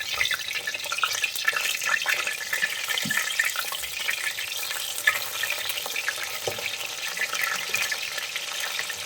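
Chicken lollipops fry in a pan with a steady crackling sizzle, punctuated by occasional soft knocks as the pieces are turned; no one speaks.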